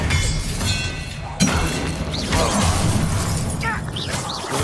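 A Confringo blasting curse from a Harry Potter-style video game lets off a sharp shattering crash and thump amid game effects, followed by whooshing magical sweeps and crackles, with voices briefly heard around it.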